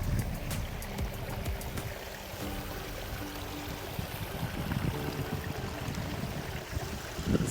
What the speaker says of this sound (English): Really cute little river here as well.